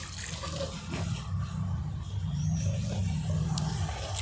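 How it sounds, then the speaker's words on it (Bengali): Water poured onto a freshly repotted Furush flower plant, running through the soil and draining out the pot's bottom, a steady close trickling wash with low gurgling throughout, no voices. "এইভাবে সুন্দর করে জল দিতে হবে যাতে নিচে ড্রেনেজ দিয়ে জল পরিষ্কারভাবে বেরিয়ে যায়"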